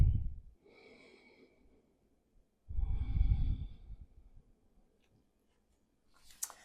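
Slow, audible breaths during a gentle yoga stretch for the neck and shoulders: two long exhalations a few seconds apart, close and soft, with a faint click near the end and no talking.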